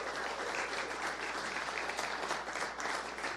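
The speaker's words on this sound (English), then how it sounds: "Big round of applause for you." Audience applause for a university track-and-field thrower at a UW-Eau Claire Blugold Athletics Giving Week kickoff event, a steady, dense wash of clapping from a sizable crowd that holds evenly throughout without a break.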